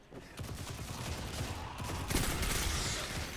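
Gunfire in Destiny 2, a dense, faint crackle of overlapping shots and mechanical clatter that swells slightly toward the end.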